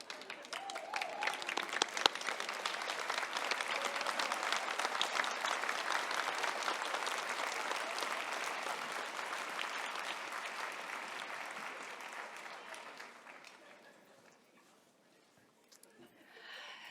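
A large convocation crowd applauds graduates, broad sustained clapping with scattered cheers that swells and then fades toward the end, with a voice rising again briefly.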